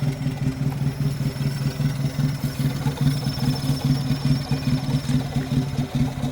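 A Toyota engine running at a steady idle with a suspected blown head gasket, giving a loud, close, even chugging pulse with a light clattering texture throughout and no talk over it.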